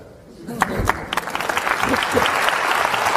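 Audience applause swells at a talk event, starting quietly, then breaking into scattered claps that build into sustained, full clapping from a large crowd.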